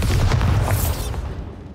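Bombarda spell explosion in Hogwarts Legacy, a loud deep boom with a crackling burst that rolls and fades over under two seconds.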